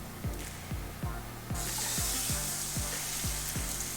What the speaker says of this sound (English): the oil that just did splash up splashes away from me and not towards me